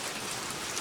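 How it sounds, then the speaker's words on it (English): Steady rain falls outdoors, a dense, even hiss of drops pattering on surfaces with no pauses or voices. "it started raining pretty good"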